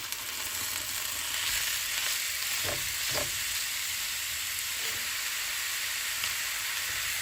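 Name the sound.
venison frying in a pan with onions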